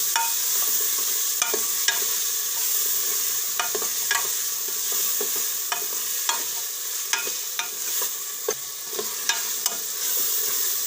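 Mixed vegetables including tomatoes sautéing in ghee for cracked-wheat khichdi, a constant close sizzle broken by regular sharp ladle scrapes and clinks against the pot, no talking.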